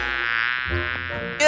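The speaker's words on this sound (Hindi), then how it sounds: "कुछ मक्खियां उसके गिर्द भिनभिनाते हुए आईं।" Several flies buzz steadily around a tailor sewing in a room, a continuous close insect drone lasting the whole moment with no talk over it.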